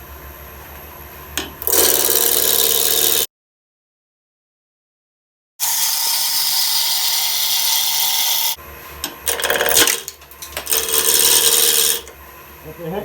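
A lathe gouge taking aggressive cuts on a hard, dry walnut bowl, harsh scraping and rasping bursts with a gap of silence, then renewed rough cutting with uneven, juddering stretches.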